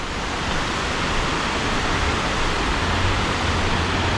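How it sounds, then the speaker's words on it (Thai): A Thai waterfall flows with a dense, steady rushing roar that stays close and constant, with no voices. "น้ำตกก็จะไหลลงไปนู้นนะครับ"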